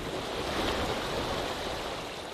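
Rough sea waves surge and wash against the coastal rocks behind a remote island where seaweed is harvested, a dense, continuous roar of surf with no voices.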